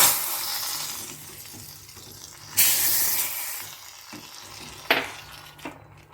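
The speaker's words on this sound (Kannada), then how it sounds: "ಜೀರಿಗೆ ತುಪ್ಪ ಒಣಮೆಣಸು ಮತ್ತು ಇಂಗು ಹಾಕಿರೋ ಒಗ್ಗರಣೆ ಹಾಕ್ತಾಯಿದ್ದೀನಿ" Hot ghee tempering with cumin, dried red chilies and asafoetida hisses and sizzles steadily into rasam, with sharper bursts of spattering flaring up a few times, close by and with no one talking.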